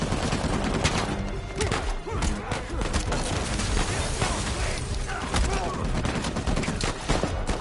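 Dense, continuous gunfire rattles in the Uncharted 4: A Thief's End video game, rapid overlapping shots and bursts loud and unbroken for several seconds.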